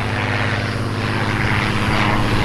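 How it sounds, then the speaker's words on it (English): P-51 Mustang "Swamp Fox" propeller fighter at the NAS Key West airshow, its piston engine roaring in a loud, steady drone with a throbbing low rumble throughout. "Swamp Fox, the legendary P 51 Mustang, is inbound. Listen to the song, all its own."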